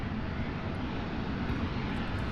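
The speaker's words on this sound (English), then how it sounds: "Now we may have a close-up Delta E175. Just kind of maneuvering" A Delta E175 regional jet maneuvering at Louisville's SDF airport, heard as a steady, broad engine roar at moderate distance, continuous with no voices over it.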